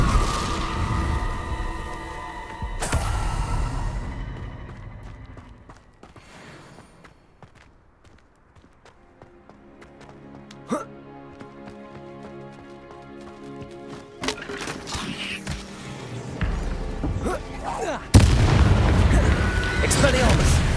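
Hogwarts Legacy spell combat with Incendio fire casting, heavy booming bursts and crackling impacts at the start and end separated by quieter stretches, mixed with game music and shouted spell incantations.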